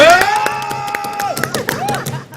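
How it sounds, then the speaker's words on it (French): An audience cheers and whoops while scattered hand claps ring out, fairly close and lively, fading toward the end. "Est-ce qu'on peut l'applaudir s'il vous plaît?"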